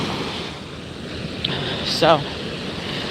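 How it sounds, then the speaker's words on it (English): Ocean surf washes in a steady, broad roar with wind buffeting the microphone, while a voice briefly speaks over it. "I'll still show the waves for a little while longer if you want to just listen to the waves."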